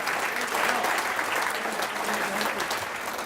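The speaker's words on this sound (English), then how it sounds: "So big round of applause for everybody for making time out of the night." Sustained audience applause filling a banquet hall at a 2017 business excellence awards gala dinner, steady dense clapping from many hands throughout.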